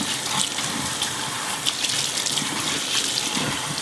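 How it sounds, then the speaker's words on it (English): Cold tap water runs steadily, splashing and gurgling as salted duck legs are rinsed beneath the stream, close and continuous with no talking. "So to rinse them, just run them under cold water."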